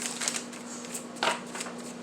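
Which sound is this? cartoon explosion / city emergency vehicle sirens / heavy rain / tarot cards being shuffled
tarot cards being shuffled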